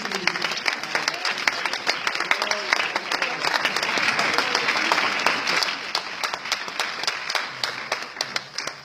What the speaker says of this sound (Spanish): ¿Cuántos aplaudimos en nombre de Jesús?